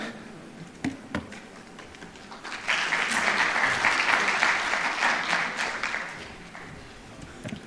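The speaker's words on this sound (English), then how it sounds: "Another round of applause for Professor Dixon Andala" An audience at a formal event applauds, the clapping rising after a few scattered early claps into a steady, dense round of moderate loudness, then thinning out, with a voice faintly heard underneath.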